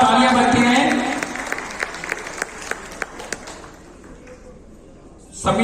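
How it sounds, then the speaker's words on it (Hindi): A crowd at a BJP party workers' honour ceremony in Shahdara gives loud applause that thins to scattered claps and fades, with a speaking voice at the start and again at the end. "जोरदार तालियां बजती हैं।"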